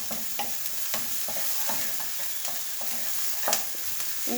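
Food for lasagne sizzles steadily in a pan at moderate volume, broken by regular scraping taps of a utensil stirring it.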